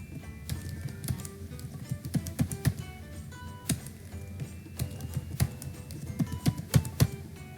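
Close keystrokes on a computer keyboard as a root password is typed during a Linux CentOS 7 installation, irregular clusters of quick taps with short pauses, no voices.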